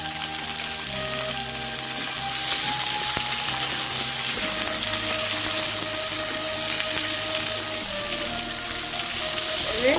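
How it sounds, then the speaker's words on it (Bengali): Katoa stems fry in a pan with ginger-cumin paste, a steady sizzle holding throughout with faint stirring scrapes and a low background hum underneath. "আদা জিরে বাটা দিয়ে এটা একটু ভাজা ভাজা করে নেবো ডাটাটা"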